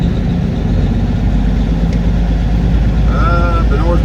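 Big truck engine idling with a loud, steady low rumble while another truck backs into a yard during a DIY oil change, a faint high whine rising near the end.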